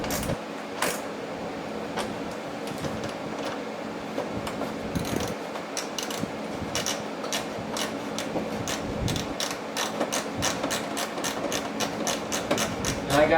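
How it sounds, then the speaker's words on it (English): A 7mm flex-head speed wrench ratchets while a carbon fiber front splitter is installed on a C8 Corvette Z06 or E-Ray. Rapid, close clicking quickens toward the end over a steady low hum. "And I got this speed wrench"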